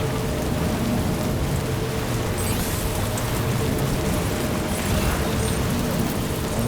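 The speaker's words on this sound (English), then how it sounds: "got some rain coming in" Steady heavy rain in a video game pours down continuously, a dense wash of noise with no voices, holding at the same loudness throughout.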